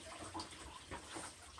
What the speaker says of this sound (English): it takes a little while for that water just to stop